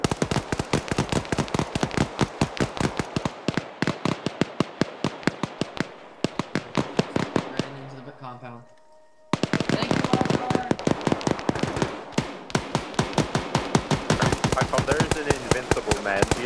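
Rapid automatic gunfire bursts in a shooter video game, loud sharp cracks in fast rhythmic strings with a brief lull near the middle, while a voice talks over the action.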